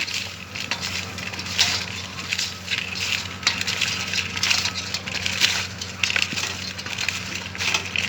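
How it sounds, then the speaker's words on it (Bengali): Pieces of pointed gourd are rubbed by hand with salt and turmeric in a metal bowl, making a steady, close, gritty scraping and crunching that runs without a break. "এবার এটাকে আমরা মাখিয়ে নেব, সব পটলগুলোকে মাখিয়ে নেব।"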